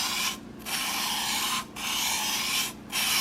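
A blade's flat side is drawn across a sharpening stone with light pressure to break off the burr, three steady gritty rubbing strokes separated by brief pauses, close and clear.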